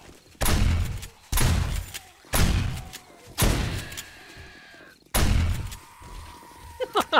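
A shotgun fires in the video game 7 Days to Die: five loud, booming blasts spaced about a second apart, each with a heavy low-end thump and decaying tail, followed by small game clatter.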